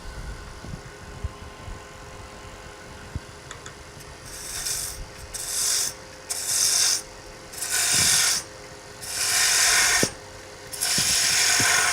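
A wood lathe tapers a wooden Christmas tree. A low running hum carries repeated bursts of raspy scraping as the tool cuts in and lifts off in short, uneven strokes, close by.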